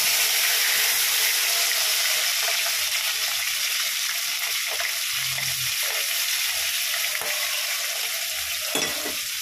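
Tomato, green chilli, black cumin and turmeric fry together in hot oil for katla fish curry, a steady loud broadband sizzle running the whole time, with occasional soft stirring knocks and no voices.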